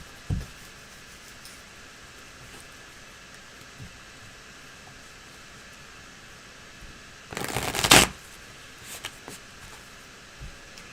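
Tarot cards are shuffled slowly in one brief burst of riffling, close and fairly loud, set against a long stretch of quiet room tone with a few faint taps.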